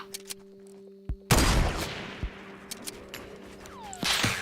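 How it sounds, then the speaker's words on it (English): Gunfire from a sniper battle in Fortnite: sharp loud shots crack out, one big blast followed by scattered lighter pops and a second burst near the end, with quiet gaps between. "Having a little bit of a sniper battle right here."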